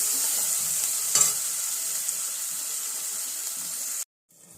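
Onions frying with salt in a pan for a dal curry give a steady, loud sizzle with a stir partway, cutting off abruptly near the end.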